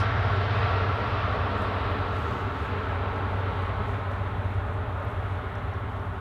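A KLM airliner lands at Amsterdam Schiphol without reverse thrust, a broad, steady roar with a deep low rumble that slowly eases off, heard alone without talk.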